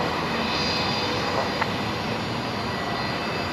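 Jet airliner on its takeoff roll from runway 01 right at Brisbane Airport at twilight, a steady broad engine roar at moderate distance, continuous and unchanging throughout with no talk.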